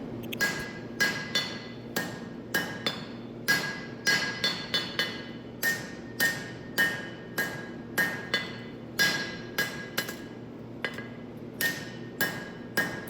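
Hammer blows ring out on a honesuki knife blade being forged out at the bevels, about thirty sharp metallic strikes in a steady rhythm of quick pairs and singles, close and clear with no voices.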